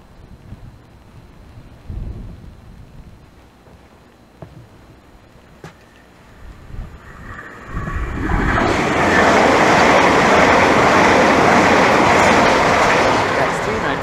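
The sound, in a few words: Southeastern passenger train passing through Teynham station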